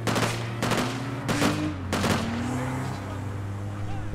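Gunfire in the APB Reloaded shooter game, several sharp bursts of shots in quick succession over a steady low engine hum, close and loud, easing off into the continuing drone.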